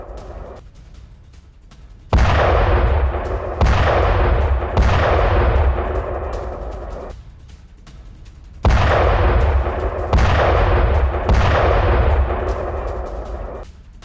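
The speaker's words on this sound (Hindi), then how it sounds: "कई जगहों पर धमाके सुने गए।" Several heavy booming explosion blasts in a city hit in two clusters, each loud impact rolling into a long rumbling decay, with distant low noise between.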